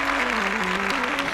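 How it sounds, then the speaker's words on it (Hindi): A church congregation applauds during a Hindi-language morning prayer service, a dense, steady wash of clapping with a low held tone running beneath it, all in one short burst. "कलीसिया सभी जन तालियों के साथ प्रभु का धन्यवाद करें"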